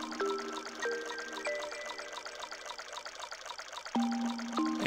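Trickling, pouring water in the dreamlike pixel game Yume Nikki, a soft continuous stream heard faintly under gentle sustained synth tones that shift pitch every second or so.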